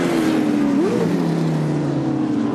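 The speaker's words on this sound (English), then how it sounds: "And down towards the final set of turns comes the Big Falcon, still being chased by Barrow" A Ford Falcon chased by a more modern Holden in a muscle car race at Pukekohe Park Raceway, engines roaring steadily and close, with one V8 note rising sharply before settling into a sustained drone.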